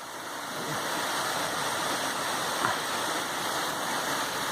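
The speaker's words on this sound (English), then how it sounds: "Look at that waterfall, isn't that lovely?" Waterfall on the West Highland Way in Scotland, a steady broadband roar of falling water that stays loud and constant throughout, with no voices over it.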